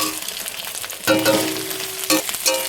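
Chopped tomatoes and green chillies hit a hot pan of ginger-garlic paste, sparking a sudden loud sizzle that settles into steady frying, with a few stirring scrapes and a second burst of hiss.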